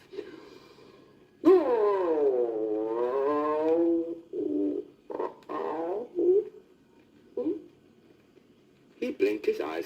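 On a 1978 storybook record, a bear tries to sing like the birds, rendered as a warbling, wavering vocal howl that rises and falls, followed by shorter groaning bursts. A human voice imitates the bear's attempt.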